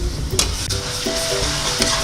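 Ground garlic and ginger stirred into golden onions frying in a pot of oil for beef yakhni pulao, a steady close sizzle with a few scraping spoon strokes and no talking.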